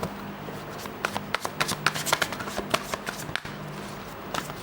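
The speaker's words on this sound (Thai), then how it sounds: "วันนี้ทั้งวันทำไมสับไพ่ผิดปกติมากเลย" Tarot cards are shuffled by hand at close range, giving a run of crisp riffling slaps and flutters in irregular bursts, with a quiet hum underneath and no talk.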